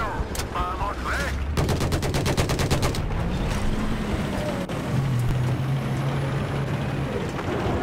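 Rapid bursts of automatic gunfire in Battlefield 4 rattle in a fast, even stream, with heavy rumbling tank engine noise running steadily underneath.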